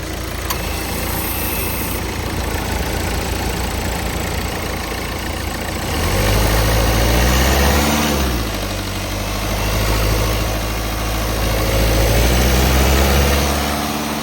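A 2012 Nissan Sunny XL diesel engine idles with a steady low rumble and vibration, swelling slightly louder partway through, close by and without talk.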